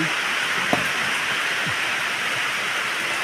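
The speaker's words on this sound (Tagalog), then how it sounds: "Ulan na naman. Katakot naman ang ulan." Steady, dense rainfall hissing continuously at close range, heard from under a roof, an even wash of noise with a few faint drips and taps standing out.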